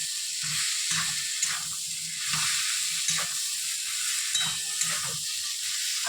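Prawn curry with okra frying in a pan as it is stirred, giving a steady close sizzle with a repeating scrape of the spoon roughly every second, no voices.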